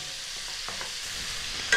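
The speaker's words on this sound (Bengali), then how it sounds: "ফুলকপিগুলো হালকা ভাজা হয়ে গেছে এবং রং ধরতেও শুরু করে দিয়েছে।" Cauliflower florets fry in a pan with a steady, close sizzle, while a spatula stirs and scrapes now and then, with a brief sharper clink at the end and no talk.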